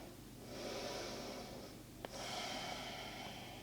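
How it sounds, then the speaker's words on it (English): One full, slow breath drawn in during a seated stretch, steady airy breathing lasting a few seconds, close and soft, with a small catch partway through. "Take a full breath here."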